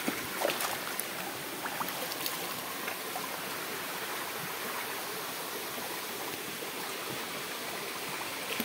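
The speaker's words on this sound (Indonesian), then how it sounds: "ketika kita ketemu air lagi, dan ini lebih jernih airnya" Clear mountain stream water flowing beside a hiking trail up Puncak Lumut, a steady close rushing babble that keeps going without voices.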